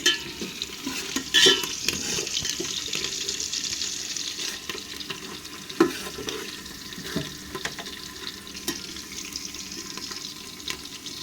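Onion, tomato and whole spices frying in oil in a pot for biryani, a steady soft sizzle running throughout with occasional stirring scrapes and clinks, fairly close and unaccompanied by talk.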